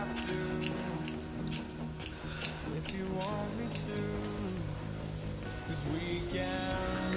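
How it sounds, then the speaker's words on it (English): Scissors snipping off the ends of curly hair while a full wig is made, a run of sharp, close metallic clicks spaced roughly every half second over a low steady background hum. "I always go in and I cut off the ends part."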